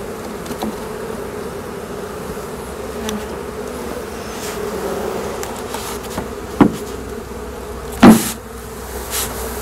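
A dense, continuous hum of Arataki honey bees buzzing close by at a hive, with a couple of brief knocks and bumps partway through.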